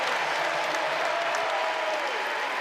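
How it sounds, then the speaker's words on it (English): Carolina basketball fans in an arena applaud during an exhibition game against Johnson C. Smith. The crowd noise is steady, with a faint whistle or squeak running through it. "Good round of applause from the Carolina faithful"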